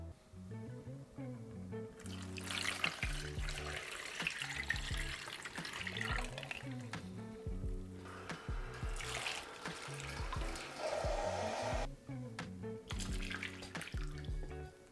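Brewed coffee poured into a glass container over clear iPhone 16 Pro phone cases, a steady near splashing trickle in several pours separated by brief pauses, with faint background music.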